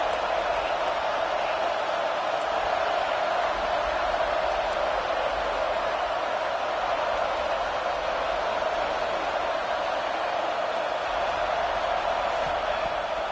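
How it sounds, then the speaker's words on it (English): A football stadium crowd roars continuously for the defense, a dense, sustained wall of cheering noise with no breaks. "Listen to this crowd just shaking the girders of this place, trying to help their defense."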